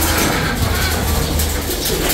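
Young racing pigeons coo softly up close in a loft, low throaty calls over a busy, steady background.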